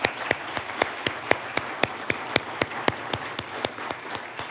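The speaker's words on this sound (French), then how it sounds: "Bonne main d'applaudissements." At an awards ceremony, sharp claps come in a steady rhythmic beat about four times a second over a soft background hiss, easing slightly toward the end.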